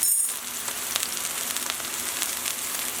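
Chicken sears in a hot pan over a medium flame with a dense, even sizzle and scattered crackling pops, close and steady throughout with no talking.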